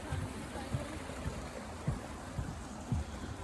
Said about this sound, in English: Up on a little bit of falls here.